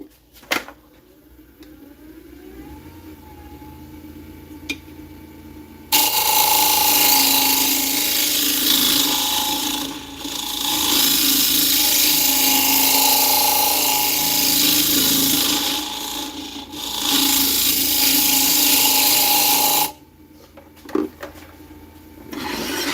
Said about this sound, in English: We're just gonna sand now